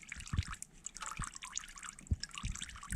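Hot, very watery fluid drains during a lubrication flush on a vehicle, trickling and dripping in uneven spurts and splashes, faint and close.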